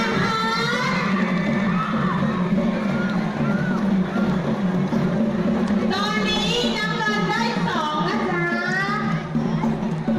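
Spectators cheer and shout at a futsal final between orange and blue teams, a loud continuous roar of crowd noise with children's high voices rising and swelling through the whole stretch, a burst of excited yelling midway, with a commentator talking over it.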